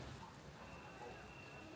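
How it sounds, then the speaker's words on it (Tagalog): Heavy rain falling in Taipei near Ximending, a faint, steady hiss of downpour with a broad even wash of sound and no distinct drops standing out. "Lakas ang ulan, eh."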